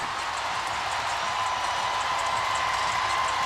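A sold-out WNBA arena crowd, Indiana Fever hosting Connecticut Sun in the final minute, roars in a dense, steady wash of cheering with no distinct voices.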